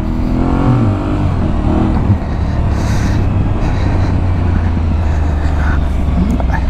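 An Aprilia Tuareg 660 motorcycle pulls away through town traffic in Sassari, its engine a steady, close, continuous drone over broad road and wind noise.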